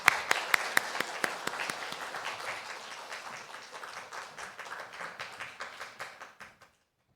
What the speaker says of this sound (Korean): 다시 한 번 박수하겠습니다.